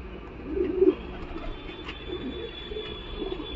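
A Madras pigeon at the Galiff Street pigeon market gives a soft, low coo near the start, heard close over a steady background rumble.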